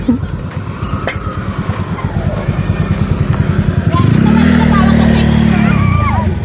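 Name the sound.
vehicle passing by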